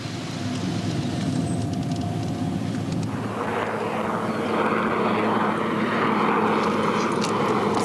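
A vintage de Havilland Vampire jet aircraft engine drones steadily, its whine and rumble growing louder and fuller over several seconds as it nears.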